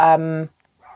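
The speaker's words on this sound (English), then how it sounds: "I'm sorry if you could hear a dog just in the background." A dog in the background gives a single short, harmonic bark or yelp that fades within half a second, followed by a faint brief sound.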